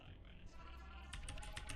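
Computer keyboard keys clacking during gameplay, a quick cluster of close, crisp taps that grows busier toward the end over a low background hum.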